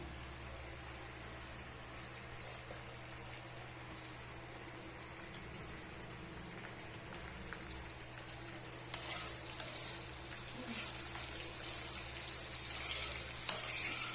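Flaxseed laddu mixture with almonds, raisins and crushed cardamom frying in a pan, a faint steady sizzle that grows busier and louder partway through as it is stirred. No talk is heard.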